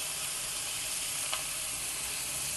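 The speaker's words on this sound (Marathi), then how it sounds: "वा, काय मस्त जोरदार खमंग अशी फोडणी झाली आहे" Asafoetida, turmeric and chilli sizzle in hot oil as a tempering for a ghol leafy-vegetable dish, a bright steady crackling hiss at close range, with a faint clink partway through and no talk.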